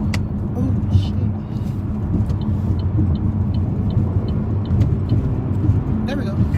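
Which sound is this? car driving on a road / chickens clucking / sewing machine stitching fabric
car driving on a road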